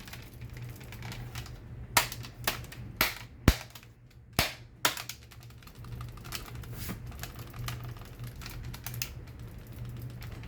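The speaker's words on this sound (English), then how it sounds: "Still hear plastic rumbling around in there." Loose plastic pieces rattling inside a Nerf Hammershot blaster as it is shaken, a run of sharp, close clacks and knocks in an irregular cluster, then quieter scattered rattles.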